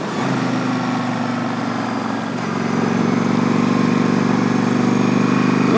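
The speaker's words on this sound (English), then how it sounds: "you can actually hear the exhaust note and know what's going on back there, how it's pulling. how it's running" Exhaust note of a 2007 Yamaha V-Star 1100 Classic motorcycle, a steady low throbbing engine running close by, loud and continuous, rising slightly in level partway through, with no talking.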